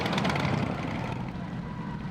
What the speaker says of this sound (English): the roar of motorcycles coming to town